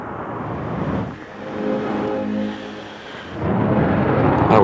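An F-16 fighter jet on full afterburner just after takeoff, a heavy, low rumbling roar that dips and swells, then grows louder toward the end.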